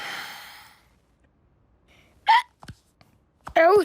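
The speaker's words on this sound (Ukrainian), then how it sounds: "О, ні, їжачку, у тебе гикавка" Cartoon hedgehog hiccuping in a children's animated series, a couple of sharp, close voiced hiccup bursts with a short gasp between them, following a long exhaled breath and a quiet pause.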